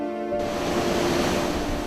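Rough sea surges at a harbor in Jeju as a typhoon approaches, a steady, heavy roar of waves and wind, loud and continuous, with no voices.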